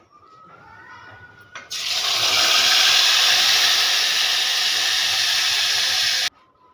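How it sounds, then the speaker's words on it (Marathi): A loud, steady hiss of steam venting from a pressure cooker cooking dal starts abruptly, holds for about four and a half seconds, then cuts off sharply. "2-4 शिट्ट्या कुकरला काढून घेतल्या"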